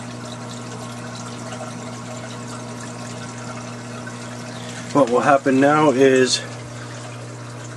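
In a saltwater aquarium, a pump runs during an automatic water change, pushing new salt water into a pipe with a low, steady hum throughout. A person talks partway through.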